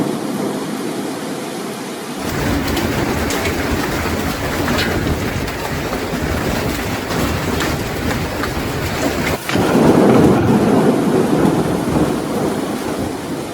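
A summer thunderstorm in Australia brings steady, heavy rain with deep thunder rumbling continuously beneath it, swelling louder near the end.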